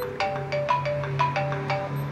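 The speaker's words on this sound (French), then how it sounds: "là vous voyez la montre sonne et vibre en même temps" A Cookoo smartwatch paired with an iPhone 5 rings for an incoming call, a repeating electronic chime of short bright tones in a quick rhythmic pattern, fairly close and clear with no talking.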